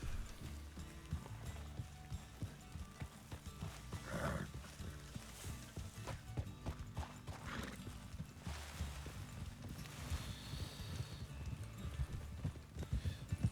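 A horse gallops in the Red Dead Redemption 2 roleplay game, its hooves clip-clopping in a steady rapid rhythm with occasional whinnies, moderately close and without talk.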